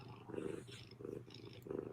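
A cat purrs in slow, steady rhythmic cycles, each breath a soft low rumble heard up close with no one talking.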